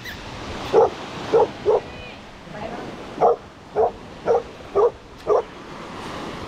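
Small Pomeranian and Shih Tzu dogs yap at a beach campsite in a series of about eight short, sharp barks, spaced evenly and fairly close, over steady surf and background murmur.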